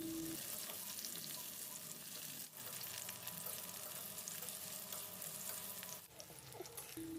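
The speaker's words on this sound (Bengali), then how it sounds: "কাঁকরোলগুলোকে আমি নেড়ে চেড়ে একটু ভেজে নিচ্ছি" Pieces of teasel gourd fry in oil over a medium gas flame, a steady close sizzle that continues throughout, with brief scraping stirs from a utensil breaking through now and then.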